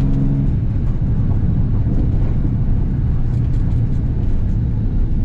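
Nissan 350Z engine drones steadily up close from inside the car while drifting, a loud continuous low rumble with little change in pitch throughout.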